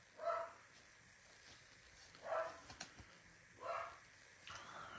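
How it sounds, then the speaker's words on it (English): Several dogs in a house bark in three separate short bursts spaced a couple of seconds apart, fairly faint and set back from the listener. "Oh, our dogs are ridiculous."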